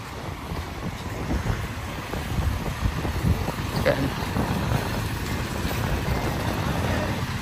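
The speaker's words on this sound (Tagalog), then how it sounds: "Lakas ng hangin, sarap, malamig-lamig ngayong gabi." Strong cool night wind along the coastal road of Davao City, a steady loud roar buffeting the microphone continuously, with faint background sounds and someone talking underneath.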